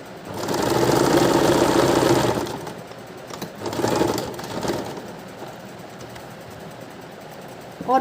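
A sewing machine stitches a blouse seam, running in a loud steady whir for about two seconds, then in shorter quieter bursts with brief pauses and a faint background hum.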